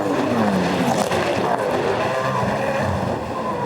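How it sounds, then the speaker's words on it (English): V8 Supercars in a 2011 Gold Coast 600 race roar side by side down the front straight, a loud, sustained engine drone with shifting pitch that fills the whole stretch. "Here you go, side by side, Tim Slade and Jonathan Webb. A drag race down the front straight."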